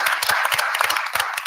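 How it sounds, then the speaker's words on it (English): A room of people at a village board meeting claps together in a brief burst of applause, dense and close, with no talking over it. "ask everybody to give a round of applause to the employees for the Village of Dalton"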